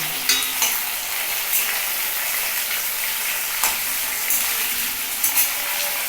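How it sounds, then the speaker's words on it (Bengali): Potato pieces fry in hot oil in a pan, a continuous loud sizzle with occasional clinks of a spoon stirring against the metal. "আলুটাকে একটু লাল লাল করে ভাজতে হবে"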